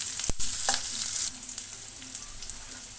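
Onions and dried red chillies frying in oil in a pan for aloo fry, a steady close sizzle with a brief knock of a spoon early on, then a lighter bright crackle continuing alone.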